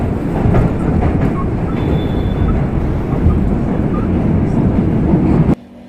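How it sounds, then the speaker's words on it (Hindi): A Delhi metro train approaches along the track, a loud, sustained rumbling roar with a faint high whine, ending abruptly. "तभी मुझे दूसरी मेट्रो के आने की आवाज़ सुनाई दी।"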